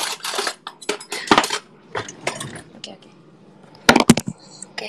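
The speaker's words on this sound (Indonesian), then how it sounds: "Mari kita ambil es krimnya pakai. Pakai apa ya? Pakai sendok gak sih?" A spoon scooping ice cream, several clinks and scrapes of metal on the container spread through the stretch, mixed with people talking nearby.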